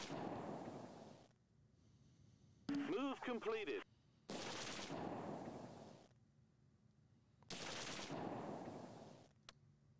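Gunfire from the World War II strategy game Close Combat 2: A Bridge Too Far, heard as bursts of crackling shots and rattling fire in separate volleys, with a short warbling tone between them.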